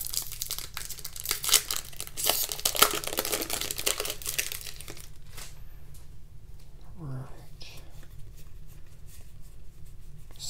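A Throne of Eldraine card pack is torn open with loud crinkling and ripping foil wrapper, followed by softer rustling and a brief faint voice.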